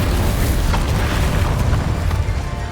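Confringo blasting spell going off in Hogwarts Legacy, a dense continuous booming blast with rumbling low end that stays loud and sustained throughout, with no talk over it.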